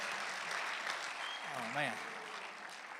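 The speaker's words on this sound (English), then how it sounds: "One more round of applause for Andrew there." Applause from a comedy-show audience for a guitarist, heard as a steady wash of clapping with a brief spoken exclamation over it.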